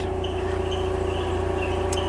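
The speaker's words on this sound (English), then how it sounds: "excuse the compressor noise" An air compressor runs in a workshop where a custom Ironhead Sportster engine is being machined, giving a steady, unbroken mechanical drone with a constant hum held at an even level throughout.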